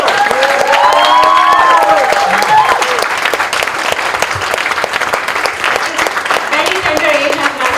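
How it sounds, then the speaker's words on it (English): An audience at a book launch for Tanveer Bookwala's book 'Wet' gives a big round of loud, sustained applause with some cheering, and voices rise through the crowd. "can we have one huge round of applause for Tanveer"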